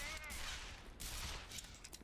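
Enemy gunfire in the video game Black Mesa, a broad noisy burst of shots that rises around the middle and repeats, loud and near, with brief gaps between volleys.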